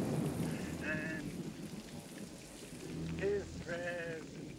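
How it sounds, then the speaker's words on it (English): Steady rain falls throughout with a dense hiss, while sheep-like bleats or voices sound over it in short bursts. "Come on, Carolyn, it's raining"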